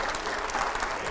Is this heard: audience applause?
yes